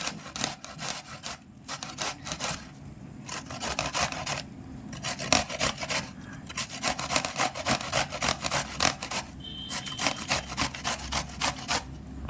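Raw plantain is pushed over a handheld slicer to cut chips, producing rhythmic, close rasping strokes in quick bursts separated by brief pauses, each pass a scraping swipe, with no voices over it.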